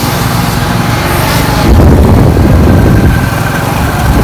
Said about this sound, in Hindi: घास मोटरसाइकिल पर रख कर अब मैं जा रहा हूँ घर की तरफ